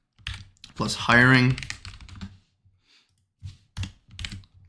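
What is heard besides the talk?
typing on a computer keyboard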